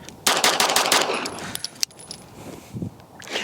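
2011-pattern pistols firing on an outdoor shooting range: a rapid burst of loud, sharp shots with ringing tails, followed by a few scattered clinks and softer reports.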